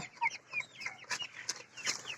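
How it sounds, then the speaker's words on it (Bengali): Tiger breed chickens, about 32 days old, give short clucks and calls while their feed is being changed, several close overlapping chirps against a quiet background. "আমার শখের টাইগার মুরগিগুলো খাদ্য পরিবর্তন করছি"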